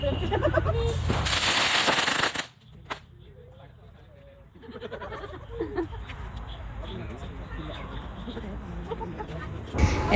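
A loud burst of crackling Diwali firecrackers fills the opening seconds, then stops abruptly, leaving quieter background noise with voices and a few distant pops.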